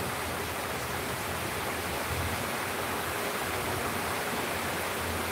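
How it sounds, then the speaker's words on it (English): Heavy pouring rain falling outside at night, a dense, continuous hiss that holds steady and loud throughout with no voices. "So, this has been recent rain, pouring rain like this"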